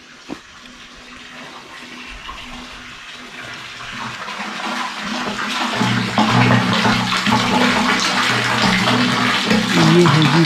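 Water pours into an open water tank in a Himalayan jungle, a splashing gush that starts soft and swells louder and fuller over the second half, with no speech.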